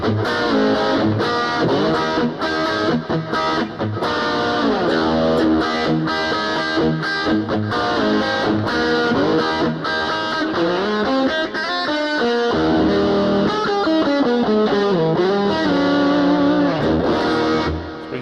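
Loud, heavily distorted electric guitar through a Boss Katana MK1 amp, played continuously with dense chords and sustained notes, saturated high-gain tone filling the whole stretch without pause.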